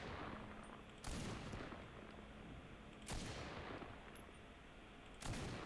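Three evenly spaced single shots ring out from a Farquhar-Hill M1918 rifle in the World War video game Enlisted, each a sharp crack with a short decaying tail over quiet background hum.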